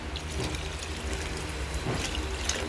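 A little broth poured into a pot of mung bean stew, a continuous close watery splash and trickle with a couple of stronger gushes.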